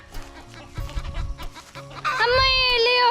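Chicken clucking in a home yard, a bird about to be slaughtered for a meal, bursts of clucks mixed with voices early on, then a loud sustained squawk close by toward the end.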